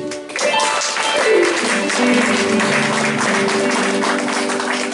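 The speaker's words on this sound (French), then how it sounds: "Applaudissez un peu Jésus." A church congregation applauds during a worship service, with dense, steady clapping and crowd noise over sustained musical tones that fill the whole stretch.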